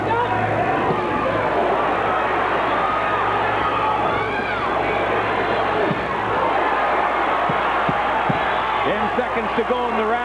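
A boxing crowd roars and cheers steadily at a Danny Romero versus Jaji Sibali fight as Romero lands a roundhouse left hook, the dense arena noise sustained throughout with a commentator talking over it.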